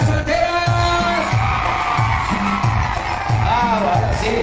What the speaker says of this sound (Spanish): A ver si se hacen escuchar el grito de las chicas solteras.